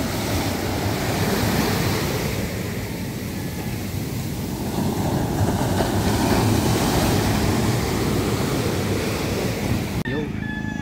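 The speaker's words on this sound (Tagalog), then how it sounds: "Grabe ang alon to." Strong ocean surf roaring continuously and loudly at close range, mixed with heavy wind buffeting the microphone, with a brief click near the end.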